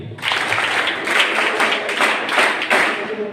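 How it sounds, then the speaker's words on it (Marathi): Students applauding together in a classroom or hall during a talk by a judge on child-protection law, dense clapping holding steady throughout with small surges, no one speaking. "टाळ्या वाजवा सगळे."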